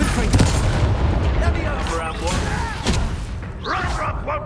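Confringo fire blast spell cast in the Hogwarts Legacy video game, heavy booming impacts and crackling bursts amid combat noise, with a speaking voice under the explosions.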